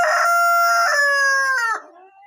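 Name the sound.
Light Brahma rooster crowing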